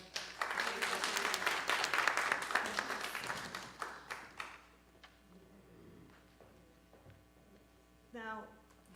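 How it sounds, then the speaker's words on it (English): A church audience claps for a guest presenter, a loud burst of many hands for about four seconds that fades to scattered claps, followed by a voice speaking. "Let's give her a round of applause."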